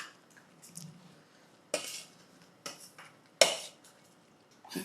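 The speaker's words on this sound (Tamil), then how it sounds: "இந்த மசாலாவோட இந்த உருளைக்கிழங்கை நம்ம சேர்த்துறோம்." Boiled potatoes stirred into a dry masala in a pan for poori masala, a few separate scraping and clinking strokes of a spoon against metal, close and fairly clear, with quiet gaps between them.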